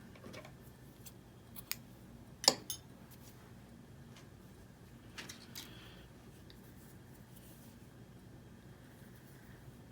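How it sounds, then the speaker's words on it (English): Scissors snip off excess yarn while a double-thick crocheted pot holder is being finished, a few faint, brief cuts standing out against quiet room background with no talking. "Maybe I'll snip some of that off."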